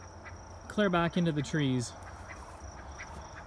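Ducks on a North Idaho homestead quack three times in quick succession, loud and close, with a person speaking briefly in the yard.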